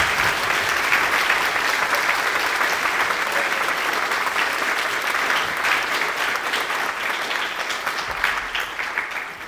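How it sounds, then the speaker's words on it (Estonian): An audience at an Estonian island youth heritage festival in Muhumaa gives sustained, steady applause, dense and even, fading slightly toward the end. "Ja nüüd ma tahan, et me teeme kogu Prangli eest ka Taavile suure aplausi."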